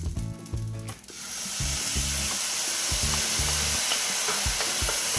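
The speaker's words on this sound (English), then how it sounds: "here is when we're gonna add our sauce." Sauce poured into a hot pan of vegetable stir fry, bursting into a loud, steady close sizzle after a brief stretch of clattering pan noise.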